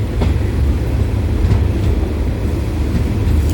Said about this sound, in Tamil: வண்டி இப்போ திருவாரூர் ஜங்ஷன் வந்தாச்சு